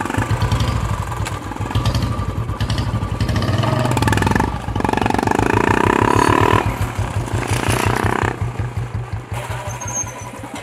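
A motorcycle engine runs close by with a steady, loud throbbing idle, rising briefly as if revved, then settling back into an even rhythmic putter throughout.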